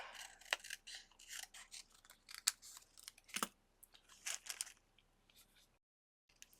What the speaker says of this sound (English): Let me just cut that out and see what I think.